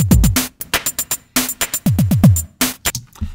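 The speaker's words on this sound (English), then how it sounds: "every bar we're grabbing a 16th note, repeating it 4 times" Ableton Live's Beat Repeat effect grabs a 16th note of a drum loop and repeats it four times each bar. Loud kicks and snares stutter in quick bursts of repeated slices between the normal beat, with no speech.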